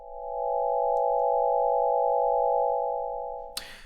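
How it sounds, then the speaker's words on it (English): Five sine oscillators in Max/MSP sum into a steady additive-synthesis chord of closely stacked pure tones, held evenly for about three and a half seconds before cutting off with a short burst of noise. "this sounds like a chord because you're just hearing all these tones out of context"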